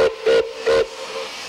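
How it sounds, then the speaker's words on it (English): Milwaukee Road Engine 261, a restored coal-burning steam locomotive, sounds its whistle in three short, loud, close blasts with a steady steamy tone, the third trailing off into a soft hiss. "With a blast of its whistle and a belch of smoke, 261 is rolling again."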